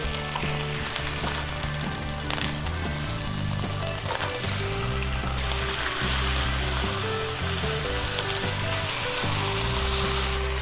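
Fish frying in a hot pan, a steady loud sizzle throughout while the fillets are flipped, with faint stirring and no talking.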